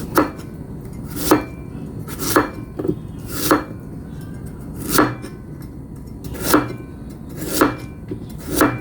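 A knife chops through peeled carrots on a cutting board for pork and radish soup, sharp crisp cuts landing at a steady, unhurried rhythm, close and clear with no talk.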